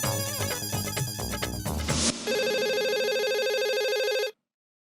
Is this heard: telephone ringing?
yes